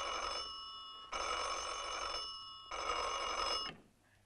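A telephone rings in an office during a party committee meeting: three long electric rings separated by short gaps, fairly loud and close, fading out at the end with no talk.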